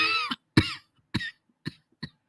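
Five hoarse coughs from a woman in a movie scene, each a short burst with gaps between them, the first ones strongest and the later ones softer.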